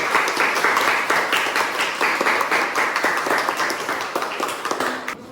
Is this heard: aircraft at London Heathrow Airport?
no